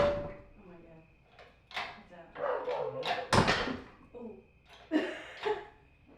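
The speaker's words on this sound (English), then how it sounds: "barking right there on the door" A dog barks at a door in a home garage workshop, several sharp, fairly close barks spaced irregularly with quiet pauses between them.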